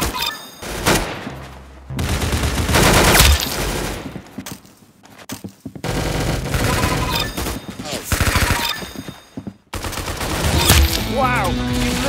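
Close, loud gunfire comes in several separate bursts of rapid shots and volleys, with short quiet gaps between them.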